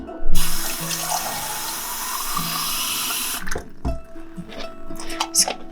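Tap water runs steadily into a sample bottle for about three seconds, a loud broadband gush that stops abruptly, followed by faint handling clinks and small knocks of the bottle and cap.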